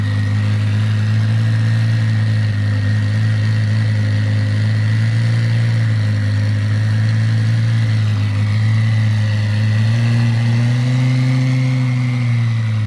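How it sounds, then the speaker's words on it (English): A cold-started twin-turbo Lamborghini Gallardo tuned by Dallas Performance idles loud and close, a deep steady drone with a slight pitch rise toward the end and no voices. "listening to a cold start of a Dallas Performance twin turbo Gallardo"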